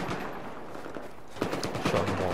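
Gunfire in the shooter game Battlefield 4 on the Dragon Valley map, a dense, fairly constant rattle of rapid shots mixed with other battle noise.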